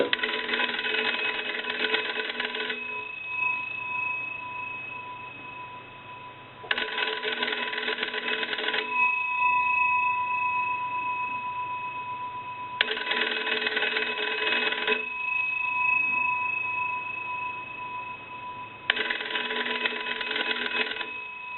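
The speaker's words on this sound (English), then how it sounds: "we'll go ahead and ring the bells one more time" An antique Monarch wooden wall telephone's bells ring in four bursts of about three seconds each, separated by quiet pauses of a few seconds, with a steady tone between rings.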